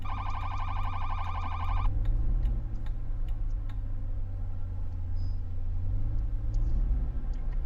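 A police car in the Flashing Lights video game sounds its secondary siren on the bullhorn tone, a loud rapid pulsing blare for about two seconds, then engine drone and faint ticks continue under the rumble.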